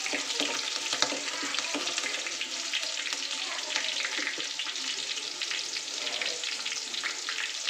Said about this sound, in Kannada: ಕಟ್ ಹಸಿಮೆಣಸಿನ ಹಾಕೋಣ ಚೆನ್ನಾಗಿ ಫ್ರೈ ಮಾಡ್ಕೊಂಡಿದ್ದೀವಿ